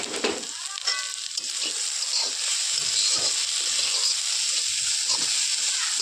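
Paneer mixture with sugar and a few cardamom pods frying in a pan, a steady bright sizzle with light stirring scrapes, close and continuous with no talking.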